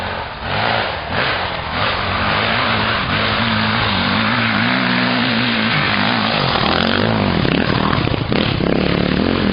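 An enduro motorcycle engine revs continuously and loudly up close on a hill climb in Kastoria, its pitch rising and falling with throttle bursts, no voices heard.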